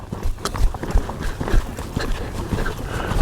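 A horse loping under a rider, with rapid uneven thuds of hooves on soft ground close by and a steady rolling three-beat rhythm.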